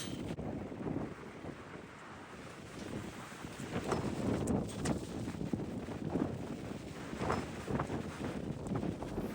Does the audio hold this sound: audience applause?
no